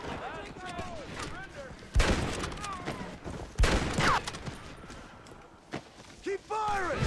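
Gunfire in the video game Red Dead Redemption, several loud sharp shots spaced irregularly across the stretch, each cracking out over ongoing shouted talk and game sounds.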